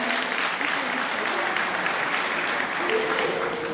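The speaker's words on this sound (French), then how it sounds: "Battons un petit applaudissement pour le Seigneur." A church congregation claps continuously in a dense, steady burst of applause filling the room, with voices mixed faintly underneath.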